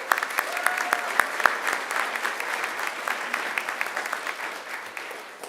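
A graduation ceremony crowd applauds the graduates in a sustained, even wash of clapping from many hands in a large hall, with no voices over it.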